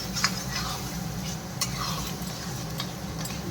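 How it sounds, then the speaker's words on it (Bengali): Peas stir-fried in a pan for paneer matar, with a steady low sizzle and occasional light scrapes and clinks of a spoon against the pan, close and without talk. "কত সুন্দর মটরশুঁটি তরকারিটা কষে নিচ্ছি"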